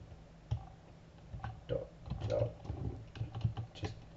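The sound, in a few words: typing on a computer keyboard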